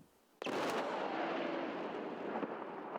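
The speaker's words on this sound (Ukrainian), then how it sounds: "З укриття за знищенням бомби спостерігаємо і ми." A sudden heavy explosion booms after a brief quiet, its roar and rumble sustaining loudly for seconds, heard from a distance, as deminers destroy a guided aerial bomb.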